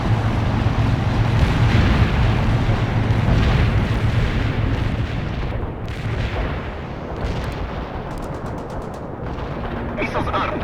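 Heavy artillery barrage in the real-time strategy game World in Conflict, a sustained roar of distant booms and rumbling blasts that fades slightly toward the end, with some radio-style voice chatter underneath.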